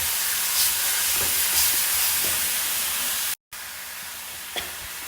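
Chicken curry sizzles in a pan as it is stirred, a loud, steady frying hiss with occasional scraping stirs and a brief dropout partway through.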